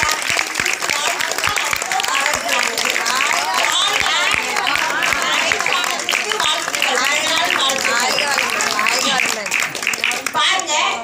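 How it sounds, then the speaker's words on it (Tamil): An audience at a herbal-medicine talk claps loudly and steadily for a birthday, a dense patter of many hands lasting throughout, with voices and children's chatter mixed in. "எல்லாருமா சேர்ந்து எவ்வளோ பெரிய கைத்தட்டல் தட்ட முடியுமோ தட்டிட்டு"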